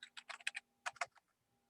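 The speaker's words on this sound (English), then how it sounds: "I try to type in a show command" Keystrokes on a computer keyboard while a command is entered: two short bursts of quick, close clicks separated by a brief pause, in an otherwise quiet room with no speech.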